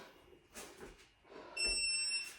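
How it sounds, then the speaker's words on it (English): Electronic beeps from a workout timer at the end of a home exercise session, a steady high tone sounding over the last second or so after a quiet stretch of room noise. "The timer is finished."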